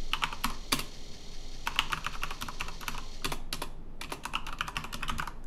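Keystrokes on a Commodore 64 keyboard come in short bursts of close, crisp clicks with brief pauses between runs, alone with no voices.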